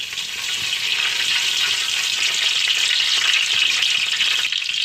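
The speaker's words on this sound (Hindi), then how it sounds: "तो सिर्फ 1 से 2 सेकंड के लिए हम लोग इसे मिक्स कर लेंगे स्पैचुला की हेल्प से।" Ingredients for a creamy chicken tikka pasta are stirred with a spatula in a hot pan, giving a steady, loud, broadband sizzle and scraping that carries on for the whole stretch with no voices.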